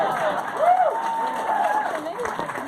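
Brief burst of applause from a crowd at a JB Pritzker campaign event in Evanston, Illinois, a steady wash of clapping with a voice speaking over it.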